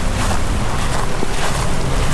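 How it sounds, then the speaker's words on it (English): Strong wind at Miami Beach roars steadily into the microphone, a constant low rumble and broadband rush with no pauses, loud and close. "It's actually super windy out here"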